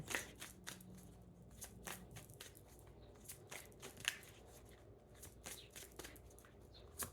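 Tarot cards are shuffled and drawn in soft, close riffling bursts and light snaps, spaced irregularly and heard faintly in a quiet room.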